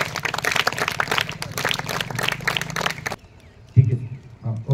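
Students applauding in a classroom during a Marathi language lesson, a loud, dense burst of many hands clapping for about three seconds that cuts off sharply, then quiet with brief speech.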